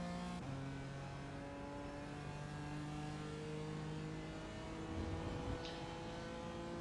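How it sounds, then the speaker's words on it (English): A BMW GT4 race car in a racing video game at Interlagos, its engine droning steadily with shifting tonal pitch lines as it pulls through gears, moderately quiet and continuous with no talk. "I should be alright with the BMW grunt"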